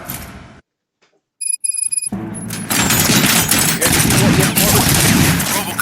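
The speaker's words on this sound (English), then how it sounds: "Gunshots? What's going on?" A loud, rapid fusillade of automatic gunfire erupts in the Robocop Rogue City video game after a brief silence and a few electronic beeps, continuing in a dense, sustained barrage.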